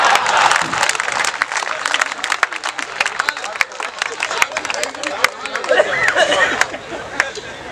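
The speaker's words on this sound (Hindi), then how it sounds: "और ये आप लोग भी ताली बजाइए।" A comedy poetry show audience applauds a Hindi hasya poet at length. Dense, steady clapping fills the hall, mixed with crowd chatter and murmuring voices.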